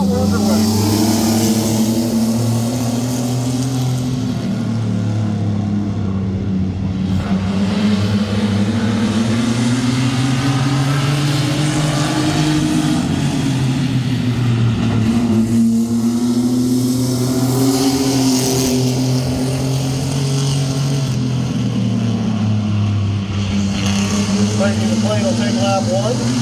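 Sport trucks race around Midvale Speedway, a loud continuous engine roar that rises and falls as the pack laps the oval, with a commentator's voice over the top throughout.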